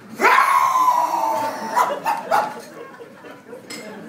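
A mongrel dog growls and snarls close by, one drawn-out vocal followed by a few shorter bursts, with no talking over it.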